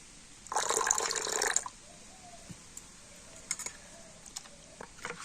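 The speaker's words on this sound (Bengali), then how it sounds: "আর একটু জল আমি দিয়ে দেবো" Water poured into an oil-free rice batter for paper pitha: a brief close splashing pour, followed by quiet, scattered clicks and taps of mixing in the bowl.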